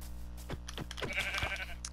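Sheep in the video game Minecraft bleat in several short, wavering calls over a steady low hum, fairly quiet and close.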